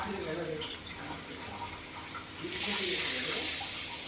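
Water poured into a pot of curry on the stove, a soft hiss and splash that swells louder about halfway through and continues, close by with faint kitchen background.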